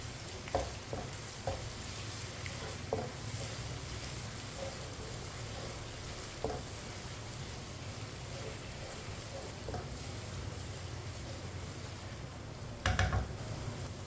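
Onion and garlic paste frying in a pot for white chicken, giving a soft, continuous low sizzle with occasional spoon taps and stirring scrapes, ending with a brief louder clatter.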